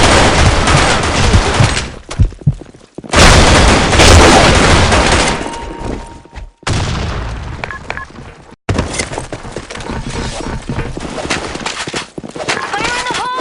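Loud bursts of gunfire and booming grenade blasts from the online shooter Black Shot crowd a capture-the-flag match, firing in rapid clusters broken by brief gaps, with game voice callouts mixed in.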